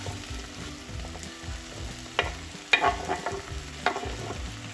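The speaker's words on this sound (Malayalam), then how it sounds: "ഇനി നമുക്ക് നമ്മുടെ മധുരക്കിഴങ്ങ് സ്വീറ്റ് പൊട്ടറ്റോസും കൂടെ ചേർത്ത് കൊടുക്കാം." Cut sweet potato pieces fry in a pan beside roasting ingredients for a soup, with a steady close sizzle and a few louder stirring scrapes, no voices.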